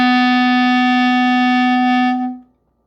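A single sustained clarinet note, all holes covered with left hand on top and right hand below, held steady and clear for about two seconds before stopping cleanly, with no other sound.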